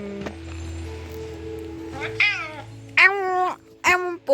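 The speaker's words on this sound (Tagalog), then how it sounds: "Feed the cat." A cat meows loudly up close, three drawn-out, rising cries in quick succession after a quieter stretch of indoor background sound.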